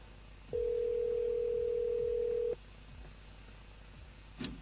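During a live Réunion TV call-in show, a phone line gives a single loud, steady two-second ringback tone, followed by quiet line hiss and a short click at the end.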